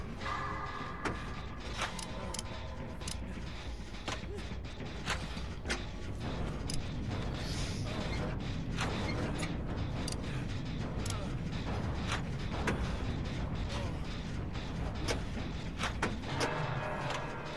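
A generator being repaired in the Dead by Daylight video game clanks and ratchets mechanically, with repeated metallic clicks and knocks over a steady whirring hum, close and continuous.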